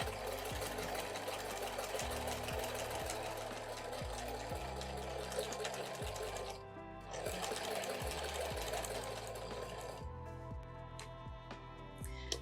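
A sewing machine stitches along the side of a cathedral window tote bag in quick rhythmic runs of close mechanical whirring, pausing briefly between bursts.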